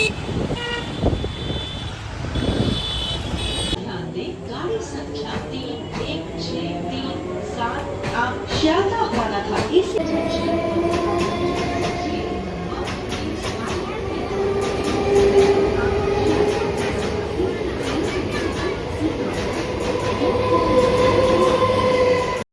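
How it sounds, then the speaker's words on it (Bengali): A train rumbles steadily with rail clatter and squeals, a horn toots, and people talk nearby throughout, like a busy station platform. "স্টেশনে পৌঁছাতে গেছি এবার ট্রেন ধরার পালা"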